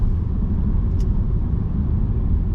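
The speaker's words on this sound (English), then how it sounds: "as you can hear the road noise, we're doing about 60 k's" Steady low road and tyre rumble inside a 2017 Mercedes-Benz C200 coupe cruising at about 60 km/h, continuous and even, with a faint brief tick near the middle.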